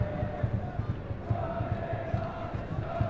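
A large football crowd at Turner's Cross stadium in Cork, a steady dense roar of many voices with rhythmic swells, like chanting, carrying on throughout.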